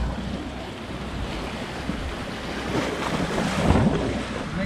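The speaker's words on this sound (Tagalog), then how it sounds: "Medyo malakas lang yung tubig." Strong sea current near a coastal cave in Rizal, Palawan surges and rushes in a continuous roar of churning water and surf, mixed with gusty wind buffeting the microphone and swelling louder toward the end.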